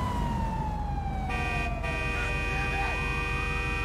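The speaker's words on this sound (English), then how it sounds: "there's two of them, sitting there at a red light with his siren on" A police car siren wails in the video game GTA V, a sweeping tone that rises and falls over steady traffic and engine noise.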